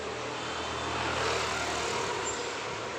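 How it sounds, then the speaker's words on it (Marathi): Steady roar of dense street traffic on a dry day after heavy rain, with cars and auto-rickshaws passing one behind another, forming a continuous broadband rumble and hiss without distinct gaps. "रेग्युलरपेक्षा जास्ती गाड्या फिरतात आज"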